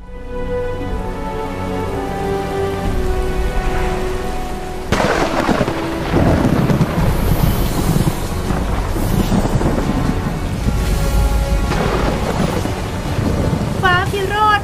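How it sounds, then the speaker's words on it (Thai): Thunder and rainstorm special effects fill a 5D film show. Steady rain hiss and low rumbling run throughout, with a heavy thunder crash near the middle and more booms later. No one speaks. "ฟ้าพิโรธแผ่นดินสะเทือนพายุฝนคึกขนองคือเอฟเฟกต์พิเศษ"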